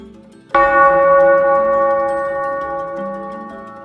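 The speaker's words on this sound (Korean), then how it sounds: "낡은 종소리가 울렸습니다." A single strike of an old bell rings out clearly, with a sharp onset followed by a long, slowly fading metallic hum and ringing overtones, heard alone.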